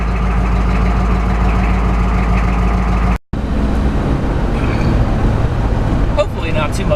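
A diesel BMW E46 engine idles steadily right after starting, a close, even low rumble with a brief cut partway through and some faint voices.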